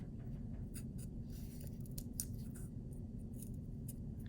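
A blade scores foam board in a quiet room, making faint, short scratchy strokes at an irregular pace.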